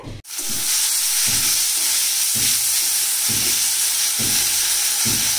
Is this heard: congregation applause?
no